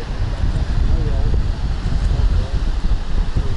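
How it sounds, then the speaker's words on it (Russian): Strong wind gusts at a clifftop lookout above the sea near a castle on the rock, a steady loud low roar buffeting the microphone throughout. "Ветер шпарит просто."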